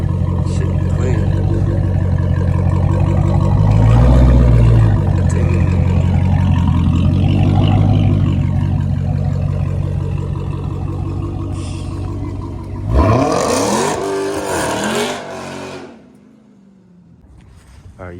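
A Dodge Challenger Hellcat pulls up with a loud, deep engine rumble that swells and fades, with a brief rev near the end, while people talk over it.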